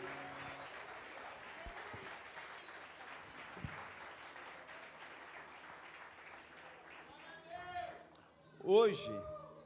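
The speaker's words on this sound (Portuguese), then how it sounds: "Você pode dar mais forte esse aplauso ao Rei?" A church congregation claps in steady applause for about nine seconds, fairly quiet and broad, with a few voices and shouts rising near the end over the clapping.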